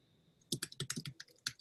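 Fingers type rapidly on a computer keyboard, a quick burst of crisp, close clicks of varying loudness lasting about a second, with no talk over it.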